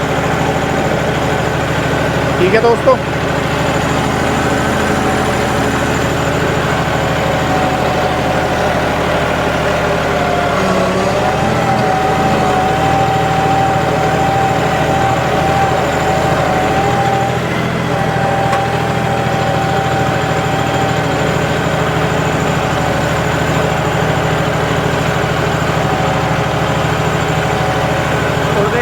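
A John Deere 5210 4WD tractor engine runs steadily under load while pulling a chisel plough through soil, a loud continuous diesel drone with its pitch shifting slightly midway; someone speaks briefly near the start.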